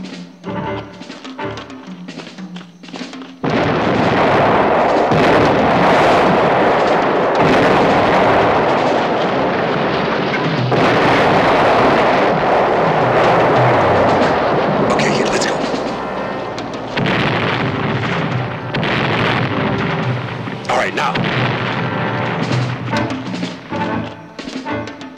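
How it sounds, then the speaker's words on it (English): Howitzer artillery fire in a 1978 Vietnam War film, a loud, sustained barrage of heavy booms and rumbling blasts under shouted dialogue, continuing for most of the scene. "Let's get moving before old Lodass opens up with his howitzers"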